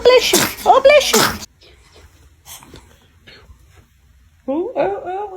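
A baby lets out a sharp sneeze close to the microphone, followed by quiet shuffling and an adult's soft, cooing voice.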